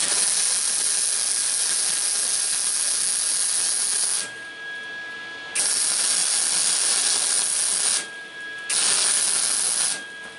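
A flux core welder lays short tack welds on a Halloween prop scissor mechanism. A loud, steady crackling hiss runs in bursts of a few seconds each, with brief quieter gaps between the tacks.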